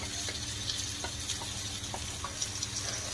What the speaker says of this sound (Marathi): त्याच्यामध्ये आता आपण हे वाटलेलं दोडका घालून घेऊया